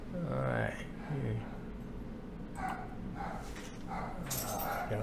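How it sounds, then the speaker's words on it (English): A dog barks and yips in a few short bursts, fairly faint, among other background noise, with a person's voice also present. "Dog."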